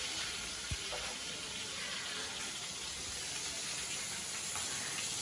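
A pot of cauliflower boils on a home kitchen stove, giving a faint, steady hiss and bubbling wash that continues evenly with a soft knock near the start.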